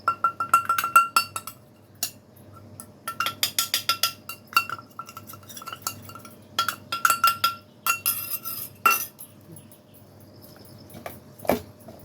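A spoon clinks against a pot in bursts of quick metallic taps while masala is mixed into half-boiled yam (karunai kizhangu), close and bright, separated by brief pauses.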